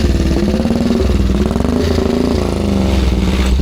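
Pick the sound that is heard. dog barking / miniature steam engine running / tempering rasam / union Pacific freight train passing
miniature steam engine running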